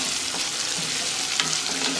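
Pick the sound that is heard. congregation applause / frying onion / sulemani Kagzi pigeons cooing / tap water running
frying onion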